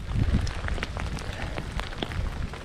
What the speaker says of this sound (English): It wasn't raining nearly as bad when I decided to come out.